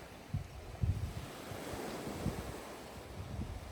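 Surf washing onto Maronti Beach on the island of Ischia, Italy, a steady diffuse wash with low rumbling pulses and some wind noise on the microphone, moderately faint throughout with no voices.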